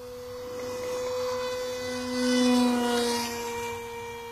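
An LK-850 model aircraft in steady cruising flight during an endurance test, its motor a continuous droning hum that swells and fades slightly as it passes, heard alone without speech.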